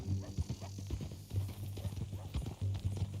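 Horse hooves clip-clop steadily in Red Dead Redemption 2, a quick, even trot close by over a low sustained musical drone, with faint voices now and then.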